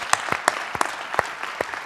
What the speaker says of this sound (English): how about another round of applause for our spectacular performers?